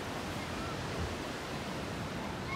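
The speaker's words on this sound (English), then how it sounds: "We got some waves in right now." Ocean surf breaks steadily on Murciélago Beach in Manta, Ecuador, a continuous broadband wash of waves with some wind noise, fairly close and alone without talk.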